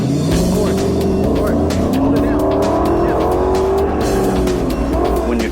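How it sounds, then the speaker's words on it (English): A car accelerates hard during a 0 to 60 run, the engine roaring loud and close with rising pitch through gear changes, with tire noise throughout and people talking underneath. "let's just practice a little bit of driving, 0 to 60 times and stuff like that"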